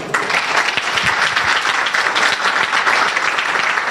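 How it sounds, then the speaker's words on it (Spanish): A church congregation applauds during a Spanish-language sermon on hermeneutics, a loud, full roomful of clapping that rises sharply at the start and stays dense and sustained, with a few sharper individual claps standing out. "Yo quiero un aplauso"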